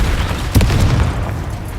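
Confringo blasting spells from Hogwarts Legacy explode in a dense, booming rumble, with a sharper blast near the middle amid continuous low crackling detonations.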